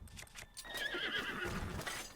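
A horse in Zelda: Breath of the Wild lets out one clear neigh with a shrill, quavering whinny. Soft hoof clip-clops come before it, all close and with no talking.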